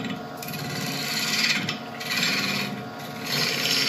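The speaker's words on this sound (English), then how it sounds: "we're swapping over to the 1/2 inch bowl gouge and we're going to be turning at about" A 1/2 inch bowl gouge cuts cherry wood on a lathe spinning at about 1100 RPM, giving a steady, close scraping rasp that swells and eases in waves.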